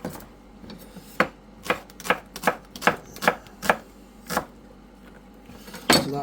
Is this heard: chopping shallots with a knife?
yes